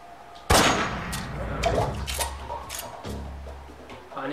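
Gunfire in the Metal Gear Solid 3 video game: one sharp, loud shot rings out early, followed by fainter metallic clangs and scattered distant pops.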